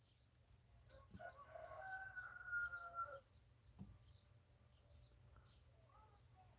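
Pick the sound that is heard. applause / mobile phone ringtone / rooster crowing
rooster crowing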